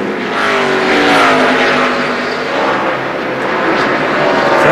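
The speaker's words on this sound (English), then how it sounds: "look at Todd Bodine in that 26 car just blow by" NASCAR Winston Cup race car roaring past at Richmond International Raceway, a loud, sustained engine howl with rising and falling pitch as the car blows by, close and dominant with other engine noise around it.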